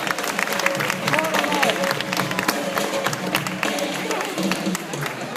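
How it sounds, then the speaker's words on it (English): An audience at a Jungle Island animal show in Miami applauds, a steady wash of clapping with crowd murmur and some voices mixed in throughout. "let's hear a big round of applause for Eliza, our ground hornbill"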